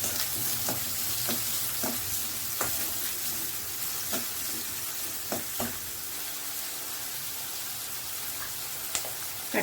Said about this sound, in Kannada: ಹೆಚ್ಚಿಟ್ಕೊಂಡಿರೋ ಈರುಳ್ಳಿನೂ ಹಾಕ್ಕೊತಾ ಇದ್ದೀನಿ.